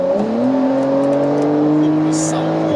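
Porsche 992 Carrera 4S engine revving steadily from inside the car, a smooth rising drone with clear sustained harmonics holding strong for nearly three seconds, loud and continuous with no talk over it.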